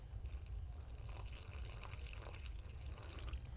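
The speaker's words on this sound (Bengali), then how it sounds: "এবার আমি জলটা দিয়ে দেবো" Water is poured into maida flour mixed with oil and nigella seeds for crisp singara dough, making a soft, continuous trickle that stays faint and steady throughout. No voices.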